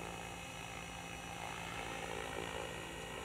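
A nearby RC model helicopter with a Spirit Geolink system hovers and descends on lowered pitch, giving a steady, even rotor drone with a constant tonal hum and no voices.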